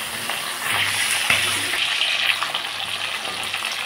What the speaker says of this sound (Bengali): মাছ ছেড়ে দিলাম। এই 5টা মাছ ভেজে বাকি মাছগুলো আমি এইভাবেই ভেজে নেব।